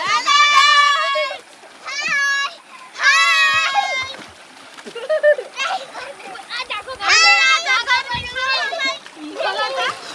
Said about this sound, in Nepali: यहाँ बच्चा बच्चीहरू सबैजना नुहाउँदै हुनुहुन्छ